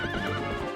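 A horse gallops in the video game Zelda: Twilight Princess, a brief burst of rhythmic hoofbeats under a bright, sustained game soundtrack.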